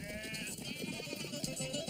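Sheep bleat on a Greek farm where a flock of around 300 is milked by hand, with several wavering cries following one another close by over a steady outdoor background.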